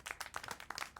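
Clapping inside the video game Syberia World Before, a quick flurry of several hand claps in about a second, fairly faint and close with uneven rhythm, no talk over it.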